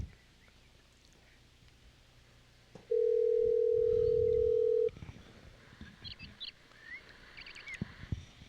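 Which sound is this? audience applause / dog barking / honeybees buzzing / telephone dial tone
telephone dial tone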